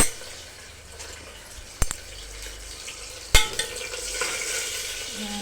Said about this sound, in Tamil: அடுத்து அதை நல்லா வதக்கி விட்டுக்கோங்க.